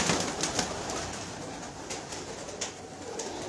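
Royal teddy pigeons coo softly and repeatedly in a steady background murmur, with no voices over them.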